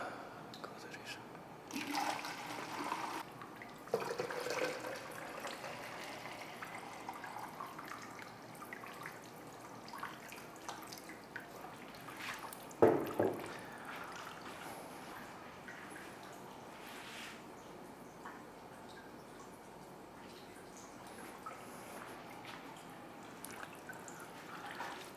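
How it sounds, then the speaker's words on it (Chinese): Water drips in a Kelvin water-drop generator experiment, faint intermittent drips and trickling over a quiet background, heard close up with a louder splash partway through. "这是卡尔文的一个滴水发电的实验设备"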